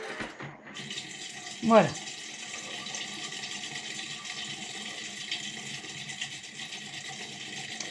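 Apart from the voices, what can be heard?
Thermomix TM7 food processor starting and running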